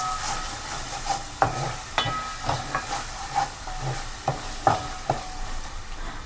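Spices and salt roasting in a pan for a fish curry, a steady sizzling hiss with repeated scraping strokes of a stirring spoon at an irregular rhythm, close by.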